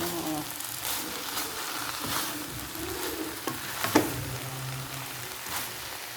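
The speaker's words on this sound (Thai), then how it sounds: "คั่วอีกนิดนึงเอาน้ำเสร็จคนอีกนะหอมแบบนี้หอม" Pork neck and sour bamboo shoots stir-fried in a pan for a Lao home dish, a steady soft sizzle with scraping stir strokes and a sharper clack near the middle, no talking.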